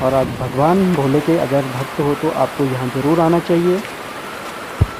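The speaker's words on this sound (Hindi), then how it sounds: "आप सुन सकते हो गर्जना करती हुई बगल में बहती हुई जलधाराएं।" Mountain streams rush steadily near the Timmarsain ice Shiva lingam in Uttarakhand's Niti Valley. The continuous roar sits under someone talking close by and comes through more clearly when he pauses.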